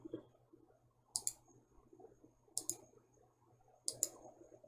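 Three pairs of sharp computer mouse clicks come at roughly even intervals while caves are drawn in Dungeon Painter Studio, with faint low background noise between them.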